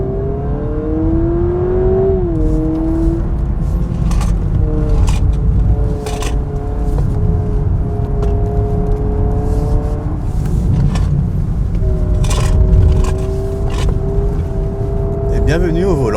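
2026 Honda Prelude engine in S+ Shift mode, heard from the cabin as a tonal, rising and falling rev sound with stepped simulated gear changes, moderately loud beneath someone talking.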